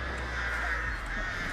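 A crow caws in the horror game Dead by Daylight, repeated calls blending with a steady hum of game ambience and no speech.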